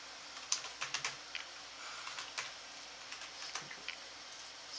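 A password is typed on a computer keyboard: a quiet, close, irregular run of key clicks and taps with no talking.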